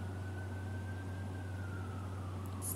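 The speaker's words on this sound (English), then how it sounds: "Stupid police cars." A police car siren wails faintly in the distance with a slow, drawn-out tone over a steady low hum.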